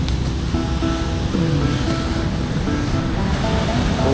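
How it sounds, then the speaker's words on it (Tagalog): Strong ocean waves crash steadily on an Aurora shoreline ahead of a supertyphoon, a loud continuous surf roar with no talk. "lakas ng alon"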